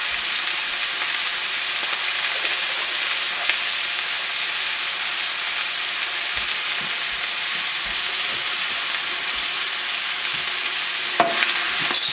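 Beans and greens cook in a pot with stock, giving a steady bubbling sizzle, with occasional soft scrapes and knocks as the mixture is stirred.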